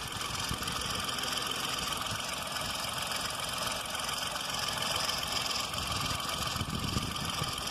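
2015 Kia Picanto 1.0 with a 998cc three-cylinder petrol engine idling, a steady close rumbling drone with a slight uneven throb, continuous and moderately loud.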